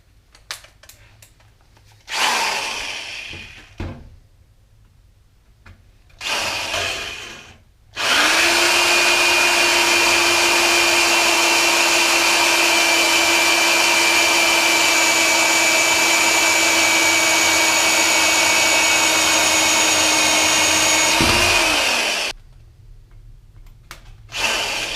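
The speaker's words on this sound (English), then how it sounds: "this is a 2 1/8 inch hole saw here" A power drill spinning a 2 1/8 inch hole saw bores through a 1994-97 Dodge Ram dash panel, a loud steady whine held for about fourteen seconds, with brief drill bursts and quiet gaps before and after.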